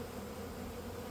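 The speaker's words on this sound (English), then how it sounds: "sometimes it gets intimidating to hold a lot of excited bees at once" Italian honey bees from a package being installed in a hive hum in a dense, steady, close buzz of many insects, with no pauses.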